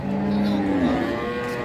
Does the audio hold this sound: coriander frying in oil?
no